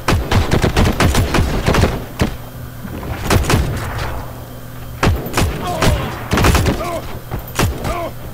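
Close, loud gunfire in the World War II shooter Heroes & Generals: rapid bursts of automatic fire and single sharp shots come in clusters, with a voice briefly heard between them.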